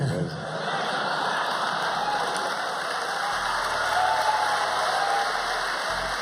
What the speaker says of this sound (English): Listen to that applause as Kobe is wrenching his face